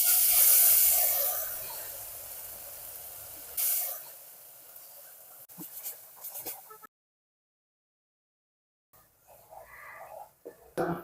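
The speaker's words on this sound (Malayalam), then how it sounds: "നമുക്കിനി അരപ്പ് അങ്ങോട്ടിടാം." Ground spice paste with a pinch of turmeric hits a hot pan for Kerala-style chicken liver fry, giving a loud, close hiss for a few seconds, then fading to quieter crackles and light clatter with a silent gap.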